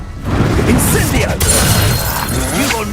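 Incendio fire spell cast during combat in Hogwarts Legacy, a loud close burst of crackling, whooshing flame and rumbling impacts over a busy battle, with voices shouting through it.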